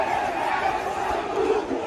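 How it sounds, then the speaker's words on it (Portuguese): Football supporters in the stands at the Curuzu stadium shout in protest after a Paysandu defeat, a dense, loud crowd roar of massed voices that holds steady throughout. "Torcida protestando contra o Hélio"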